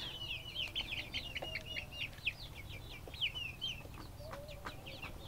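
Free-range village chickens clucking outdoors on a small home farm, a string of repeated soft clucks and short calls at moderate distance over a quiet background hum, no speech.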